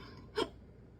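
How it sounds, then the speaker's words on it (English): A single short hiccup-like burst in a quiet room, brief and moderately loud, with no talking around it. "That was a hiccup and a belch."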